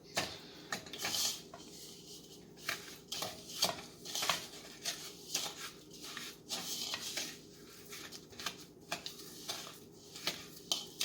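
Quiet clinking and scraping as a utensil mixes wet ingredients, including vanilla extract, in a bowl for a chocolate chip skillet cookie, with an irregular rhythm of taps against the sides.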